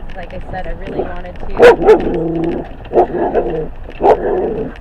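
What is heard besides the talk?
dog barking at cows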